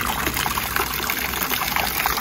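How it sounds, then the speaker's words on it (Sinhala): Spring water drinkable at a roadside stop on the way to a temple, trickling and splashing steadily in a continuous bright wash with no talk over it. "බීමට සුදුසු උල්පත් ජලය."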